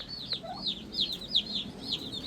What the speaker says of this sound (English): So that's what's going on with the chicks.